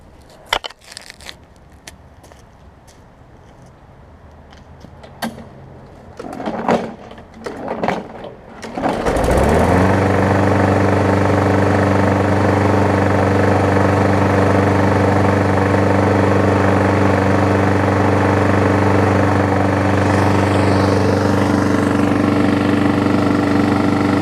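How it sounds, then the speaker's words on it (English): A Murray Big Wheel lawn mower engine starts up after some quiet handling noises, then runs steadily and loudly up close with a slight knocking beneath its drone. "almost sounds like it's knocking a little bit"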